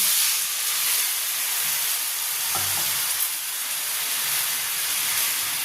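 A little water splashed into a hot pan of frying spices sets off a steady, loud, broadband hiss lasting throughout, with a soft thump partway through and no talking.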